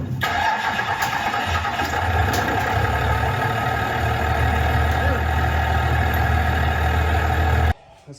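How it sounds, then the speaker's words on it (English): A K-series Honda engine swapped into a Civic race car cranks over continuously for several seconds, a loud, even churning drone that cuts off abruptly near the end. "just crank it."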